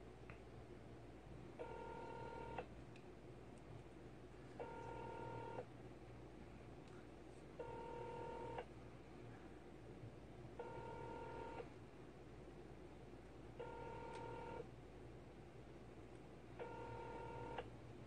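Telephone keypad tones from a phone being dialed, six evenly spaced bursts of stacked DTMF beeps roughly every three seconds over a steady low background hum, fairly quiet.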